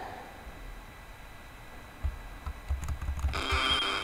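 Keyboard keys are tapped while the Amiga game Fire & Brimstone is played, with soft scattered clicks that grow denser near the end under faint game noise.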